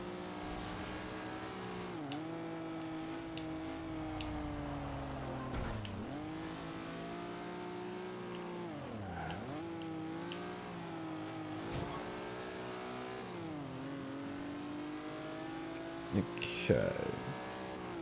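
A race car engine roars steadily in the racing game Forza Horizon 2, its pitch repeatedly climbing and dipping through gear changes, with a tire squeal near the end and a voice briefly speaking over it.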